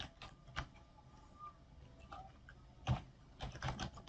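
Scattered keystrokes on a computer keyboard, quiet and close, in short irregular bursts with pauses, a few keys struck harder near the end.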